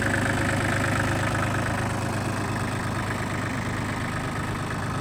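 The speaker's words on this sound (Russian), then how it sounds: "мотор работает ровно, трехцилиндровый," A Shibaura D195 three-cylinder 4WD mini tractor engine idles steadily and loudly up close, a continuous even diesel rumble with no voices over it.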